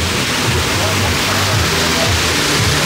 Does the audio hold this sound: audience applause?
no